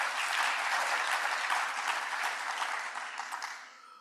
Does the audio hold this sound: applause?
yes